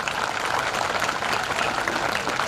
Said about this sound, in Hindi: अपने स्वयं के लिए जोरदार ताली बजाएं एक बार